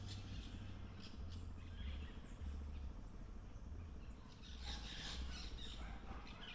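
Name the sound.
parrots calling at a parrot sanctuary in Jamaica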